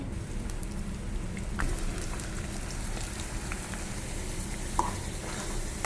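Onion paste sizzles in hot oil in a pan for a prawn and cashew curry, a steady, even crackling hiss that continues throughout.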